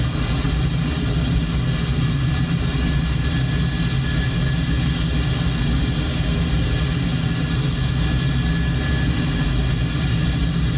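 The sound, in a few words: aircraft engine afterburners lit, in a flight video game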